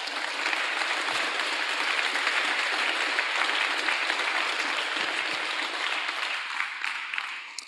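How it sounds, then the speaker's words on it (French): Loud, sustained applause from an award-ceremony audience fills the whole stretch as a dense, steady wash of clapping, easing slightly near the end with no voices over it. "un tonnerre d'applaudissements"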